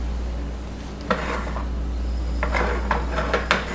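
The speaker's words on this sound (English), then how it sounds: "then you're going to use your spatula" A spatula scrapes and taps against a pan while lifting a cheese blintz crepe, a few light clinks and scrapes over a steady low stovetop hum.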